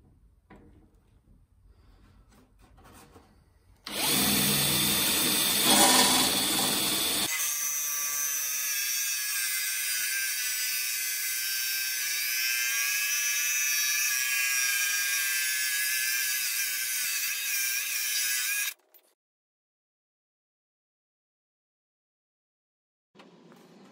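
A power drill with a hole-cutting bit bores headlamp holes in a wooden front panel of a toy car build, running loud and steady for about fifteen seconds with a whining pitch that wavers under load, then stopping.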